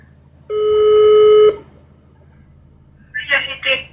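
A single loud electronic telephone ring tone lasts about a second, a steady buzzing tone rich in overtones, followed after a pause by a short burst of nearby speech.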